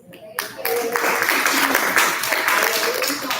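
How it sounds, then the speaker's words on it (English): Clapping breaks out among the audience at a school board meeting, swelling quickly after a brief quiet start into sustained, fairly loud applause with some voices mixed in. "everyone that's sitting here that's clapping"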